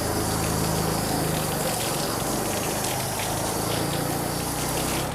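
Water gushes steadily and loudly over a car panel coated with spray sealant, flooding the surface in a continuous close-up rush with no pauses.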